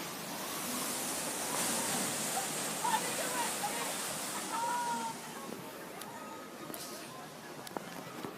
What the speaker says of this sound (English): Hear the splash?